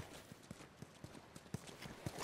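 Horse hooves clip-clopping in The Last of Us video game, a steady rhythmic walk of about a dozen faint, even steps with no talk.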